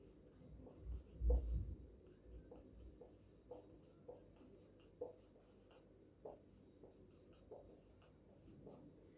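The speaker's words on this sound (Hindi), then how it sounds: "लिख देती हूं मैं यहां पर" Marker or chalk writing on a board during a chemistry lesson on covalent bonding, a soft scratchy stroke pattern with intermittent taps and squeaks over several seconds, faint and close.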